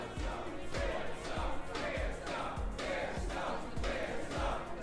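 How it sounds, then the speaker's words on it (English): A crowd at a Tetris world championship chants in a steady rhythmic beat, with loud repeated shouts roughly every half second, mixed with general cheering and hall noise. "European Tetris crowd is notorious for being loud, for chanting weird stuff at the players"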